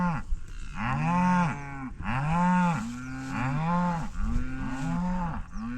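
Several cattle low repeatedly on a working farm pasture, deep overlapping moos following one another close by and loud, with no talk.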